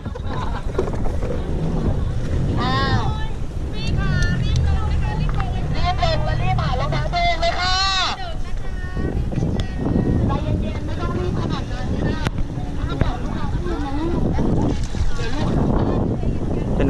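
A Thai longtail boat's three-cylinder turbo engine drones and rumbles over wind noise while people talk loudly over it throughout.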